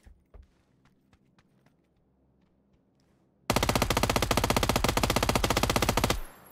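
A JS9 submachine gun in PUBG fires a sustained, rapid full-auto burst of about three seconds, loud and close, after a few quiet footsteps and ticks; no talking.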